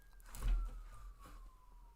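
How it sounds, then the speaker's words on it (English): A distant ambulance siren in Bemidji carries faintly through the background, a thin steady wail that slowly glides downward in pitch, with no talk over it. "can you guys hear those sirens?"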